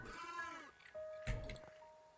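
Sheep bleating in the survival game Craftopia: a wavering, harmonic bleat up front, followed by a sustained tone and a short burst of game sound effects, with no talk.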